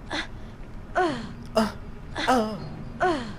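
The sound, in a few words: sneeze in the Harry Potter and the Chamber of Secrets video game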